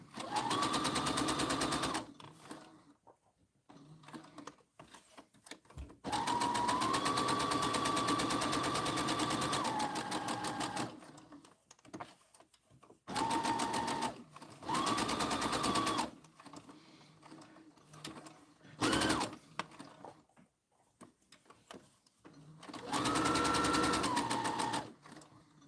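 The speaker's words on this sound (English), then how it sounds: "I am sewing a bear." A sewing machine stitches a stuffed teddy bear in bursts of rapid, steady mechanical whirring and clatter, close and fairly loud, separated by short pauses and quieter handling sounds.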